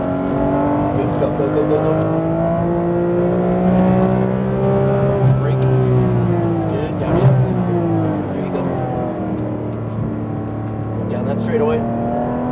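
A Porsche GT3 RS accelerates hard on a track, its engine note loud and close, climbing steadily in a sustained, rising roar over about twelve seconds.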